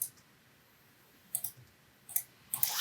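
A computer keyboard clicks in short, sparse bursts as code is typed, a few separate taps spaced apart against near silence, close and moderately quiet.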